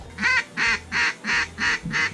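Mallard ducks quacking during a duck hunt: six evenly spaced loud quacks in a steady rhythm over a low rumbling background.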